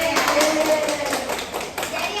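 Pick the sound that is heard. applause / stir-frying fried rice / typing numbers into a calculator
applause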